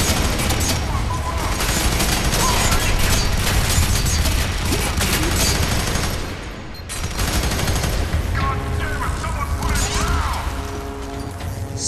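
Dense, continuous gunfire and crashing impacts in the shooter game F.E.A.R. 3, loud and chaotic volleys with mechanical clatter that dip briefly before resuming, mostly without talking.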